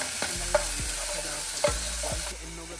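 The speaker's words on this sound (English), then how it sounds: "And as it browns, I just continually stir it, waiting for the onions to get translucent." Onions brown in a Dutch oven for BBQ ribs, a soft continuous sizzle under several distinct scraping strokes of a utensil against the pot, close by, with no one talking.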